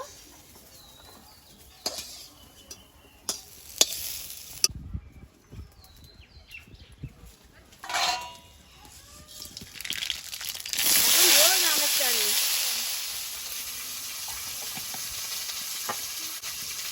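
Sliced raw potatoes sizzle and crackle in hot oil, with stirring, scraping and clattering utensils around them and a voice talking over the pan.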